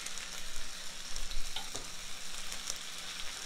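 Pork chops fry and brown in a pan, giving off a steady, gentle crackling sizzle with soft popping spits throughout.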